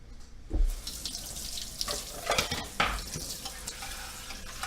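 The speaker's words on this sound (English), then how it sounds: "I'm rinsing out the cans because I definitely recycle." Tap water runs and splashes as empty cans are rinsed out in a sink, with clanks and sloshing bursts from the cans, near and moderately loud.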